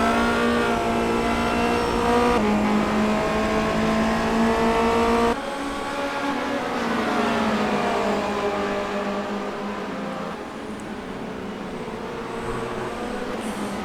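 Formula Renault race cars lapping Suzuka's S-curves in the iRacing sim, engines holding a loud, steady high-revving whine with layered tones rising and falling as several cars pass close together, no talk.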